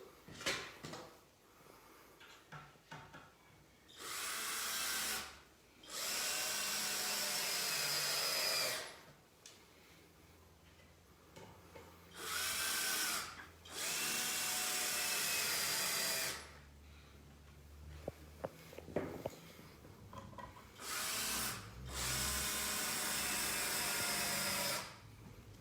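Power drill driving screws into wooden boards for a compost bin, several loud sustained whirring bursts of a few seconds each, separated by quiet gaps and small handling clatter.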